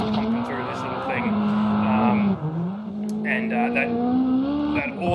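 Boosted race car carrying a big Pioneer-branded rear wing, driving with a loud, sustained engine drone that rises and falls with throttle changes and a brief dip midway.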